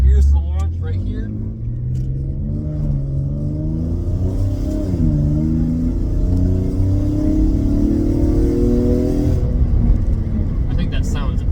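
An Infiniti G37 fitted with test pipes launches hard from a stop and accelerates, its loud, close engine note climbing steadily in pitch through the revs and staying strong throughout.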